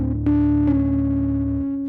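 A sustained tone is driven through a distortion audio plugin, producing a buzzy, harmonically rich saturated sound that holds steady for under two seconds, with a couple of brief transient bumps.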